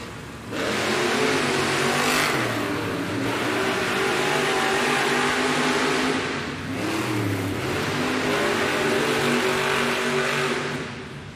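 Gravedigger monster truck engine roars and revs hard in a Monster Jam arena during a racing run, loud and sustained with a couple of dips and surges as the throttle swells again.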